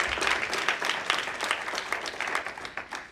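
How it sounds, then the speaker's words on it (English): An audience at a district GIS week exhibition claps for a presenter, dense steady applause with distinct hand strikes carrying on for several seconds without speech. "We need to give a big hand of applause."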